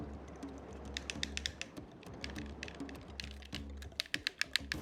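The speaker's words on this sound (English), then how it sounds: "you can hear, like, the clicking of it, of the stick and stuff" A game controller's analog stick clicks in quick, irregular bursts of small plastic taps held close to the microphone, with a steady low hum underneath.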